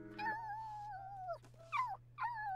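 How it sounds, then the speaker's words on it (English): A puppy whimpers in The Sims 4 game, a few high, thin whines that waver and slide downward in short separate bursts, soft and close over a steady low hum. "The doggy's so cute."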